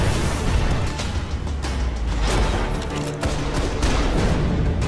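Dense enemy gunfire in a Destiny racing sequence: sustained, overlapping shots and bursts packed into a loud, continuous fusillade with no pauses.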